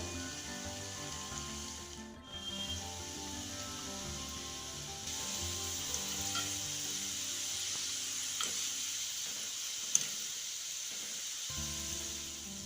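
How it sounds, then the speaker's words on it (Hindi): Shredded potato sticks deep frying in hot oil give a steady, even hiss that holds for several seconds, with a few faint pops and bubbling crackles near the end. "अब इनको क्रिस्पी होने तक फ्राई करेंगे"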